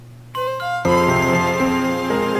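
Theme music from the video game Pokemon White version, played in an old, ancient-sounding style: a sustained low drone, then a few bright tones entering one by one before a full, layered instrumental arrangement swells in, loud and continuous with no talk.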